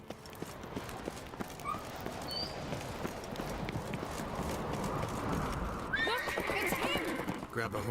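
A horse in The Witcher 3 whinnies and gallops with steady hoofbeats, the pounding growing louder and busier toward the end, with game sounds mixed in.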